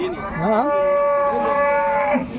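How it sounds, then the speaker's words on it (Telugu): An HF Jersey crossbred cow at a cattle market gives one long, loud, close moo that bends in pitch before holding a steady tone, with no talk over it. "మంచి బ్రీడ్ ఆవులు"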